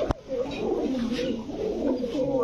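Pigeons at a market pigeon shop coo steadily in soft, overlapping low calls, close and continuous, with a brief sharp knock near the start.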